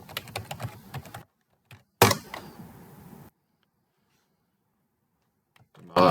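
Rapid bursts of keystrokes on a computer keyboard as a password is typed, close clicking in two short runs separated by silent pauses, with a final brief flurry at the end.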